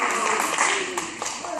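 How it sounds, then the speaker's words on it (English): A group of children clapping for a classmate during a sea-star talk, a brief burst of scattered claps blended with chatter and voices. "Everyone clap for Rio."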